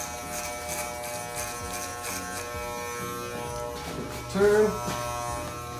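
Electric hair clippers buzz steadily at close range during a home haircut, a continuous whine while cutting, with a brief voice speaking near the end.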